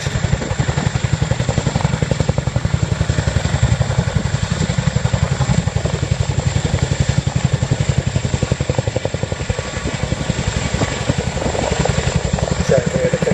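A Royal Air Force Boeing H-47 Chinook twin-rotor helicopter performs at the ILA Berlin air show, its loud, steady rotor thudding pulsing rapidly and evenly throughout alongside a constant engine roar, close and powerful.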